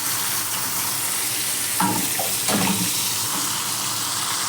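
Seer fish frying in a pan, a steady dense sizzle close up with a couple of brief stirring or turning disturbances midway.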